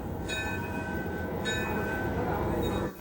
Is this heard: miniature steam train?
yes